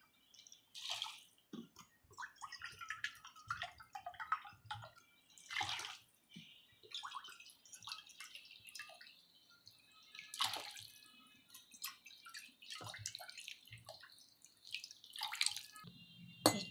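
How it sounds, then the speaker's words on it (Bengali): Six bowls of water poured one after another into a cooking pot for pulao, giving repeated bursts of splashing and trickling with drips and quiet gaps between pours. "ছবাটি জল দিয়ে দিয়েছি"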